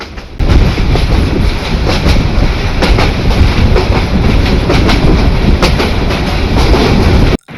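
The Mohanganj Express runs through Bangladesh near Rajendrapur, heard from on board. A loud, continuous rattle and clatter of carriages on the rails starts and stops abruptly.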